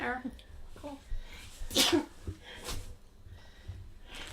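A single sharp sneeze bursts out near the middle, close and loud, with speech before and after it and a short word spoken near the start.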